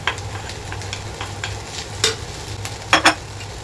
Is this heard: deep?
no